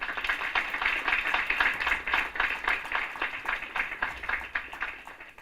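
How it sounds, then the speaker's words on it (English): Applause from an audience at a national constitutional law moot court competition, honoring the justices: dense, sustained clapping from many hands, moderately loud and steady throughout with no talking over it. "let's give a round of applause"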